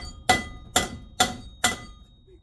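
Four evenly spaced, sharp hammer whacks ring out close and loud while a 1904cc VW shortblock engine is being assembled, each strike metallic with a brief decay.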